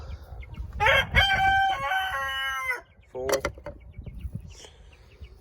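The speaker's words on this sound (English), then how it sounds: "The big chickens" Large farmyard chickens cluck and a rooster crows loudly nearby, with a long ringing crow followed by shorter clucks and calls over faint background noise.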